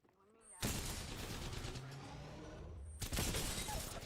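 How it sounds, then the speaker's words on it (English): Heavy gunfire erupts from many directions in Apex Legends, a sudden dense barrage of overlapping shots that holds for several seconds and surges again near the end, loud and chaotic after a quiet start. "Sounds like there's people shooting from every direction"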